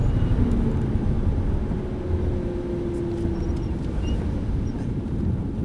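An Aston Martin V8 Vantage accelerating on a track, heard from inside as a steady, loud low engine drone with a faint rising tonal whine, continuous throughout.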